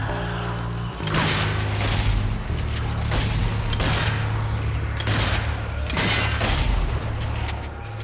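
Grenade blasts and gunfire from the zombie shooter game Zombie Army 4: Dead War, loud and busy, with repeated booming bursts layered over a steady game soundscape for several seconds.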